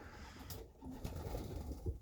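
Young pigeons coo softly in a snow-covered backyard aviary, with faint rustling and low bird calls close by.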